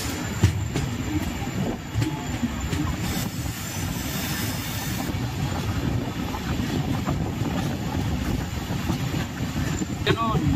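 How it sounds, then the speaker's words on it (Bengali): The 15777 tourist special from New Jalpaiguri to Alipurduar rolls through a sharp curve near Hasimara, with a steady close rumble, occasional clacks and a thin, high wheel squeal. "যেন 90 ডিগ্রি কার্ভ নিচ্ছে ট্রেনটা।"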